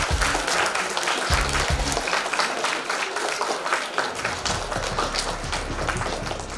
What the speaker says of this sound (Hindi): तालियां एक बार से